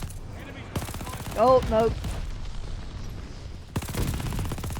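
An MG42 machine gun in Call of Duty Vanguard rattling off long, rapid bursts, loud and close, with a pause in the middle, while a player talks over the firing.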